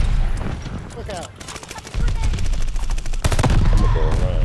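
Call of Duty: Vanguard multiplayer gunfire, rapid automatic bursts rattling in quick repeated volleys, loud and close, with a brief lull between bursts and someone talking over them.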